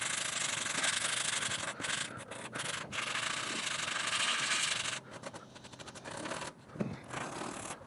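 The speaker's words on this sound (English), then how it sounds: "We'll hand sand up to there." Hand sanding across a primed patch on a car body panel, with a continuous close scratchy rubbing in back-and-forth strokes, a few brief pauses, and a slightly softer stretch near the end, no voices.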